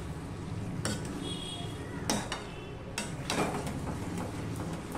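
Potatoes being stirred into a spicy chicken curry in a pan, with a low sizzle underneath and a few sharp scrapes and clinks of a spoon against the metal, close and fairly quiet.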